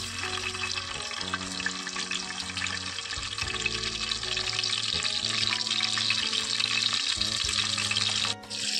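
Curry leaves dropped into hot oil to temper a raw banana vegetable dish give a loud, steady crackling sizzle that continues with stirring noises throughout, dipping briefly near the end.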